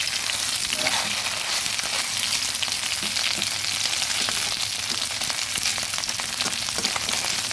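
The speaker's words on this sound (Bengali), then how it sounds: "সবগুলো মাছ উল্টে পাল্টে আমি ভেজে নিয়েছি" Tengra fish frying in hot oil in a pan, a loud dense continuous sizzle and crackle held steady and close, with no voices.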